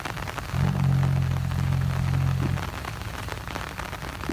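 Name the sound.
heavy rain falling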